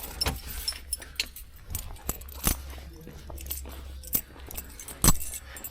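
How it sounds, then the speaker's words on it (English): Car keys jangle close by at the trunk of a 1968 Buick Skylark, sharp metallic clinks and rattles sounding in scattered bursts, with a few louder jingles near the end. "grab the keys"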